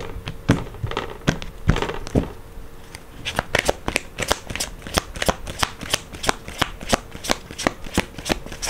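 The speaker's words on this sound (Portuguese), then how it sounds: "Não embaralhar muito não, que eu já embaralhei pra" Tarot cards shuffled by hand, a rapid run of crisp, close riffling flicks that repeats steadily for several seconds.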